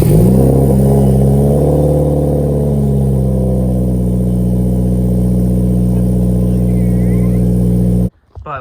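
Subaru WRX engine fitted with a new exhaust rumbles loudly nearby, with an initial rev settling into a steady deep idle that stops abruptly near the end.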